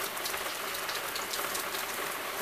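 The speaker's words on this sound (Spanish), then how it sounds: "Vamos a ver cómo cae el agua, así más personalizado." Rain falls steadily in Tijuana, a dense, even hiss of drops striking a roof and nearby surfaces, close and fairly loud, with no voices.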